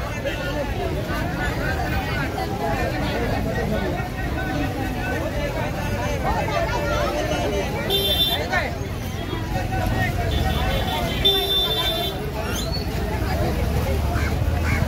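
A village market bus stop in Devgad, Konkan, crowded with passengers during the Ganesh festival, fills with a steady hubbub of many voices close by, with ducks quacking intermittently and a person speaking over the babble.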